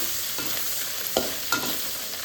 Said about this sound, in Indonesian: sekarang waktunya kita goreng ikan terinya